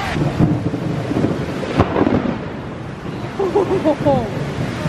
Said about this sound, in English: I just saw the craziest lightning